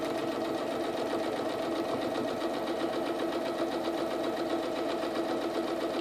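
A sewing machine runs steadily and continuously, stitching fabric pieces for a 3D-look quilt block with black thread, a close, even mechanical whir with no pauses and no talking.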